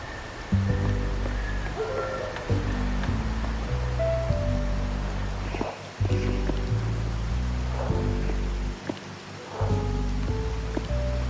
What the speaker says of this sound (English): The rain's back.